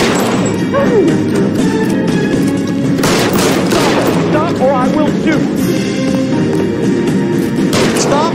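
Rapid gunfire in L.A. Noire, with repeated shots cracking through a dense, loud mix of game music and ambience across the whole scene. A voice speaks underneath.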